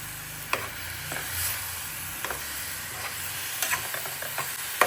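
Vermicelli tossed with raisins and cashews is stirred in an oiled pan, a soft steady sizzle running under occasional scraping strokes and light clicks from the spoon.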